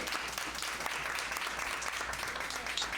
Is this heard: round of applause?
yes